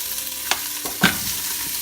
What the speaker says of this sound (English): we have our soup bones in here, and we're going to just kind of brown them up just a little bit